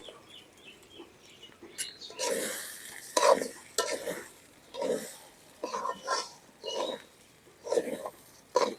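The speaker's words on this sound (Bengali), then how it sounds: "চাউল খুব সুন্দর করে ভাজা নিছি।" Washed polao rice is stir-fried in oil with fried onion and garlic, giving rhythmic scraping strokes of a spatula against the pot over a soft sizzle. The strokes come in repeated bursts and are close and fairly loud.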